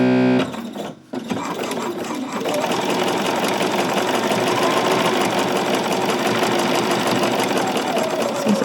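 A sewing machine fitted with a straight stitch foot runs a straight seam on a 1950s vintage-style coat, a brief start and pause followed by a long, even, rapid mechanical whir close by, with no talking.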